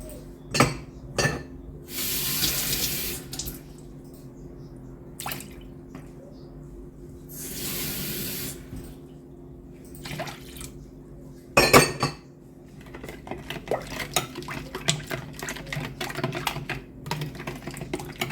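Water is poured into sweetened cabbage roll sauce in a home kitchen in two short splashing pours, with light clinks of utensils and dishes between and after them.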